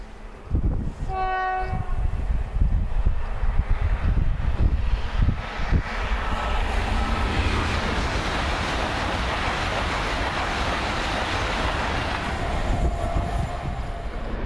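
A train passing Beningbrough footpath level crossing: a loud horn blast at the start, then heavy close rumble and clattering wheels as the carriages rush by, fading to a sustained roar.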